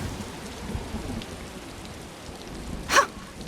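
A thunderstorm in the game The Elder Scrolls Online, with steady rain pattering throughout and a sharp crack of thunder near the end, no voices.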